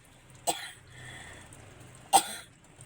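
Two short, sharp coughs about a second and a half apart, close by, with quiet background in between.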